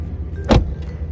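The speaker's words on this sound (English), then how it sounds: "I just love the BMW closing sound." A 2014 BMW 335i car door swings shut with a single solid, muffled thump, close by over a low steady background hum, with no talk.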